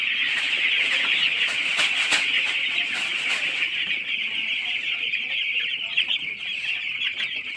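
Broiler chicks just after vaccination keep up a dense, continuous high-pitched peeping and clucking from a crowded flock, loud and steady throughout with no pauses.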